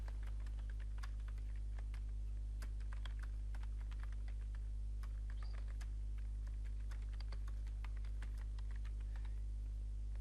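Steady typing on a computer keyboard as text goes into a file: a quiet, fairly fast run of key clicks over a constant low electrical hum, with no voices.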